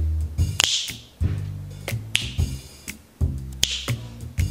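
Crisp finger snaps, about eight sharp dry cracks at irregular intervals, close and clear over a low hum, with no talk.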